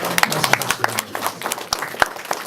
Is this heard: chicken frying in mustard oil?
no